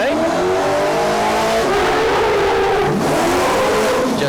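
A car engine revs hard at a racing event, a loud continuous roar with rising and falling pitch sweeps, dense and close throughout with no clear speech on top.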